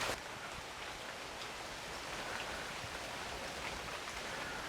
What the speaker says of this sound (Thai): เดี๋ยวให้ฝนซาลงสักหน่อยนะครับ